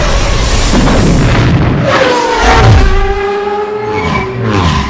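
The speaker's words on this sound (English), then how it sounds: "the sound design of the engines is just insane" Roaring podracer engines from the film The Phantom Menace scream past with rising and falling pitch, heavy booming rumbles and a loud, dense whine that sweeps across the scene.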